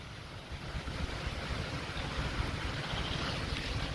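Continuous broadband rush of falling water at the Valvali waterfall near Kamothe, steady and fairly loud throughout with no voices, close enough to fill the whole clip.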